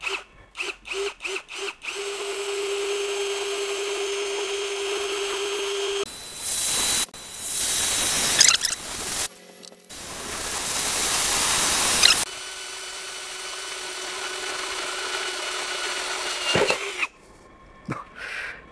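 A Premier HL 818 cordless brushless impact drill with a 6.5 mm bit, set to drill mode at variable speed 1, bores into 1 cm thick iron plate. The motor whines steadily, then loud grinding bursts come and go before it stops, with no talking.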